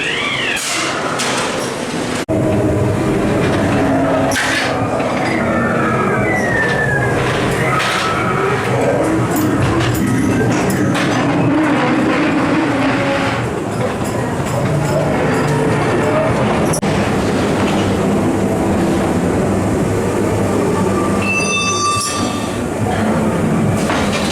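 The Ghost Train dark ride at Blackpool Pleasure Beach rumbles and clatters along its track for a long stretch, wheels rattling and occasionally squealing, with scattered effects and faint voices mixed in.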